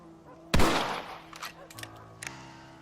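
A rifle shot in a Red Dead Redemption cutscene: one loud sharp crack that rings out and decays, followed by a few fainter clicks and knocks over a low steady hum.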